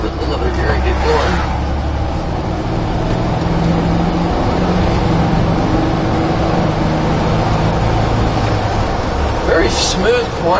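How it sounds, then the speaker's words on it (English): A 1969 Volkswagen pickup driving along in gear, its engine giving a steady low drone throughout, loud and close. "I better put it in another gear and get going."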